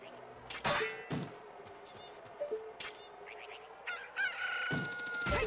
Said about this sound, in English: That bloody chicken, I swear.